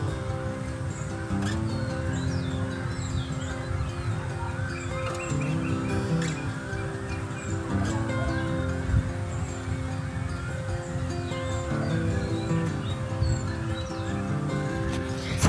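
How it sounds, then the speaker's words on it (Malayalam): Birds sing in the early morning by the backwaters at Cherai, scattered chirps and calls layered over a steady low hum, fairly faint and with no voices. "പക്ഷികൾ മാത്രം, പക്ഷികളും ഒച്ചയും."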